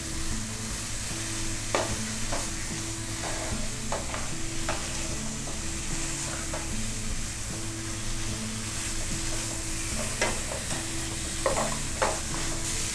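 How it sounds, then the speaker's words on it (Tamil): Badam halwa with ghee is stirred steadily in a pan over low heat, a continuous soft sizzle under repeated scraping strokes of the spoon against the pan, close and even throughout, with no talking. "அடுப்பை சிம்லே வச்சு நல்லா கிண்டுங்க."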